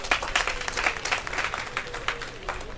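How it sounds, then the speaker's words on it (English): Applause from a congregation at an outdoor government campaign launch, fairly faint and distant, with clustered claps continuing steadily throughout. "you all deserve the applause of this congregation"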